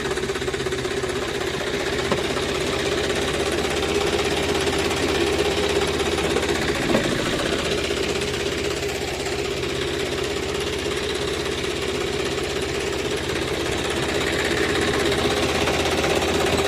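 A tractor engine runs steadily close by on a farm, a loud continuous rattling chug that never lets up.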